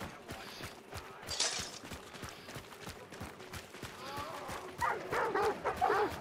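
Dogs barking in the Hunt: Showdown video game, a run of short repeated barks at mid distance under game noise and footsteps, louder near the end, while players talk over it.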